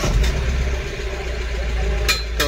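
A Mahindra Bolero BS6 pickup with very high DPF soot mass idles with a steady, close, low diesel rumble, broken by a couple of brief sharper noises near the end.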